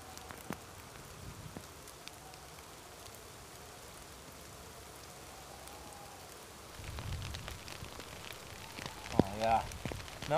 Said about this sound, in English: This rain is miserable.